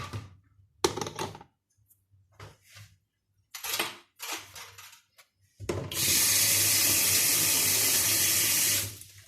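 Tap water pours from a faucet into a small bottle during homemade fruit-juice wine making, a loud steady gushing lasting about three seconds after a few short clinks and handling noises.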